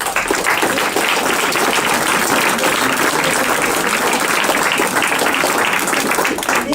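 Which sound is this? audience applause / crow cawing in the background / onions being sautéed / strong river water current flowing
audience applause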